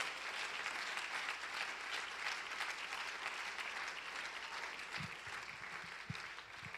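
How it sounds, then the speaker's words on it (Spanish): A church congregation applauds during a Spanish-language sermon, a dense steady wash of clapping heard at moderate distance, with a few low thumps near the end. "Aleluya, dale ese aplauso al Señor Jesús"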